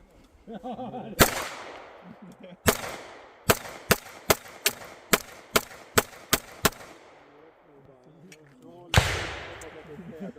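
A new Beretta APX pistol fires about a dozen sharp, loud shots, several in a quick evenly spaced string, with faint talk heard between them.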